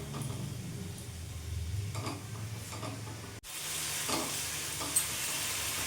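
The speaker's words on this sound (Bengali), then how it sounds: "এইভাবে এখন আমি 5 মিনিট ভেজে নেব মশলার সাথে।" Spice masala fries in a pan for aloo bhuna with a constant sizzle and repeated scraping stir strokes from a spatula, heard close up with a brief cut near the middle.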